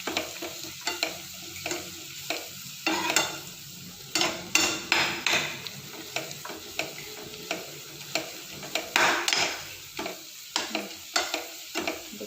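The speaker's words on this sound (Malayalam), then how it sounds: "ഇത് ചേർത്തിളക്കുക." Garam masala is stirred into a simmering lentil curry in a pan, with a soft sizzle beneath repeated rhythmic scrapes and taps of the spoon against the pan, close up and with no speech.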